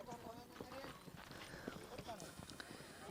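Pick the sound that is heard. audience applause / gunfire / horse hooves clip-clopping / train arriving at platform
horse hooves clip-clopping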